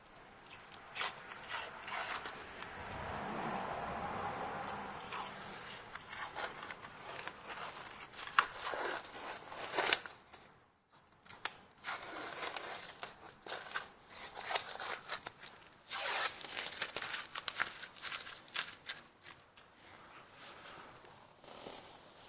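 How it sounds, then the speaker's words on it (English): Protective tape peeled off a plate during a Powerpole install on a Vexus DVX boat, a long run of scratchy ripping and rubbing bursts with a short pause midway, close and moderately loud. "Now we're ready to pull tape off."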